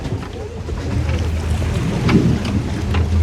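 Strong wind buffets a fishing boat out at sea off Ulsan during an octopus fishing trip, a loud, continuous rushing roar with microphone gusts that swells toward the end, with no voices.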